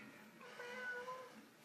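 A house cat meows softly and faintly in a drawn-out cry, heard alone against a quiet indoor background.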